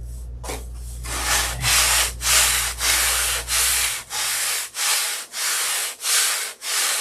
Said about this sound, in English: I'm going to sand the top of that with the long bar